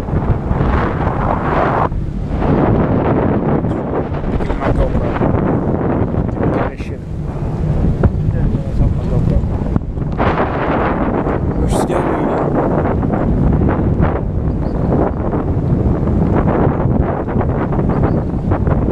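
Strong, steady wind roars and buffets the microphone for the whole stretch on the deck of a Carnival Splendor cruise ship, with rumbling low noise like open water and the vessel underneath.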